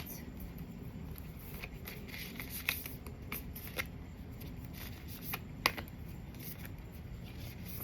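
Large oracle cards being shuffled by hand, a faint, steady papery rustle broken by a few sharper slaps and snaps as the deck is worked.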